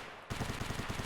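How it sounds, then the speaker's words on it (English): Rapid automatic gunfire close by in Escape from Tarkov, a loud burst of about nine evenly spaced shots starting abruptly after a brief quiet moment, with no talk. "Gunshots right nearby."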